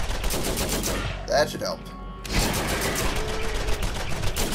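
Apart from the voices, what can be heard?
Scorpio turret firing, from video game Borderlands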